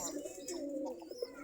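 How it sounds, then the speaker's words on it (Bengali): Desi Giribaj pigeons coo near their nest boxes: a soft, continuous, throaty cooing at close range that runs through the whole moment with no talking over it. "দেখেন কিরকম করতেছে কবুতর"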